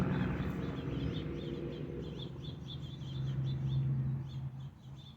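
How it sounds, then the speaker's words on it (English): Faint, high birds chirp repeatedly in the distance over a steady low rumble of background noise, with no one speaking. "Yep, well, there go the birds now."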